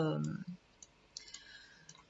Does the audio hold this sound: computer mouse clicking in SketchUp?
yes